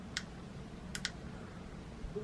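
Three sharp small clicks from the button of a STOON solar power bank flashlight, one alone, then a quick pair, close and crisp over a low background hum.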